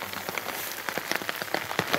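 Heavy rain pounds down at night in a forest, a dense steady hiss of drops with sharper spatters hitting nearby surfaces, loud and continuous with no voices.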